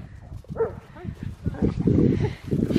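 A farm dog barks and whimpers nearby in short yips and whines, mixed with people talking and some rustling.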